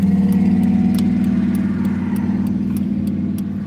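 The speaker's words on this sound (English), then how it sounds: "Sounds like he's got a freaking exhaust leak." A truck engine with an exhaust leak runs with a loud, steady low drone and a rapid ticking puff pulsing through it, heard up close and alone for a few seconds.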